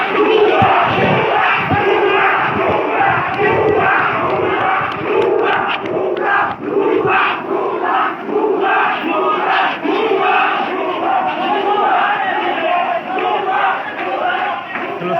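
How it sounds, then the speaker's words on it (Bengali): A dense protest crowd chants 'bhuya' slogans in Nilphamari, many voices shouting together in steady, loud, rhythmic bursts that go on without a break. "আপনারা দেখতে পাচ্ছেন ভুয়া স্লোগানে"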